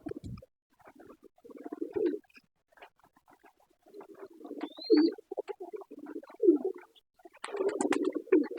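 A mixed white-and-black pigeon gives low, throaty cooing in several separate rumbling bursts, close and moderately loud, with short quiet gaps between calls and no talking.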